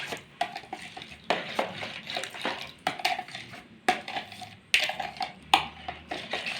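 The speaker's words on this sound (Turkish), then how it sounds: "Şimdi instans mayamızı içine koyuyoruz. Evet onları güzelce bir karıştırıyoruz." A spoon stirs instant yeast into a dough mixture in a bowl while making soft poğaça, with quick scraping and clinking strokes repeating close by and no talk.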